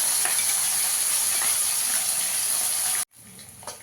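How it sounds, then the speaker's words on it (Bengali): Small mourola fish fry in hot oil in a wok, a loud, steady, close sizzle running for about three seconds before cutting off abruptly into quiet. "এবার মাছগুলোকে ভেজে নেব"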